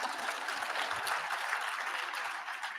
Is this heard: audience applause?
yes